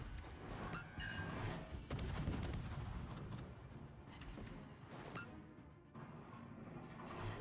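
Distant, muffled gunfire from turned guns in a video game rattles in a steady, dense stream of thumps and cracks at low volume throughout.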